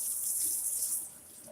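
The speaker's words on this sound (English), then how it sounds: "Do some cold water in a cup." Cold water runs from a tap into a cup, a steady close hiss of flow that softens slightly toward the end.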